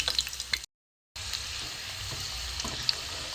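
Whole prawns fry in oil, a soft, steady crackling sizzle with faint stirring, broken by a short silent gap early on.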